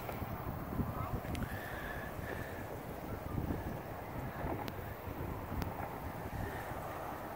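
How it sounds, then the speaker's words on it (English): Steady outdoor wind rumbling and buffeting the microphone on the San Antonio River Walk in Texas, a low continuous roar with faint distant sounds underneath. "It's a bit windy"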